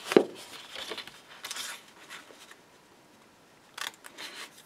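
Scissors snip through card branding in a few short, close crisp cuts with papery rustles between them, quiet and without talking.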